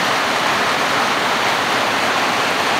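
Heavy rainwater runs and pours continuously in Iligan City, making a dense, steady, close rushing wash with no breaks and no voices.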